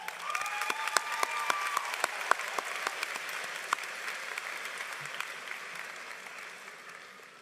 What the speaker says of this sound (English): And if we could just give them a quick round of applause before I begin.